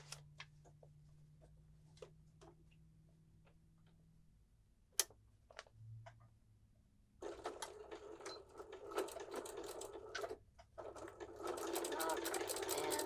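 A sewing machine stitches a quilt block, starting with sparse mechanical ticks and clicks, then running in fast, dense bursts of rapid needle chatter toward the end, moderately close, with no one talking.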